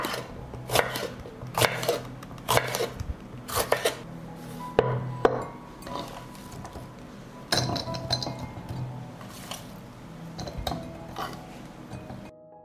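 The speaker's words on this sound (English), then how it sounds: "I will cut 2 peppers into pieces." A knife chops peppers into pieces on a board, with sharp, irregular knocks and clinks of the blade against the surface, close and fairly loud, and no talking.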